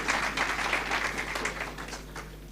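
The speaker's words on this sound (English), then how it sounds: "You can clap." Audience clapping at a university faculty launch event, a steady soft patter of many hands held at moderate level for a few seconds, with no talk over it.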